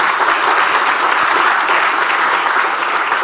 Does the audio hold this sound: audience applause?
yes